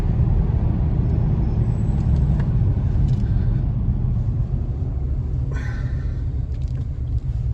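A right-hand-drive, rear-wheel-drive car engine drones steadily from inside the cabin while driving, a loud continuous low rumble with faint road noise and no talking.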